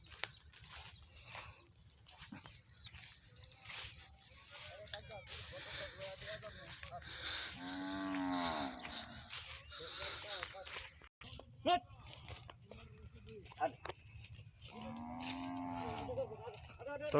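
A cow being led along toward a canal on a cold day moos twice in long, drawn-out calls, fairly close, between stretches of someone talking and background bustle.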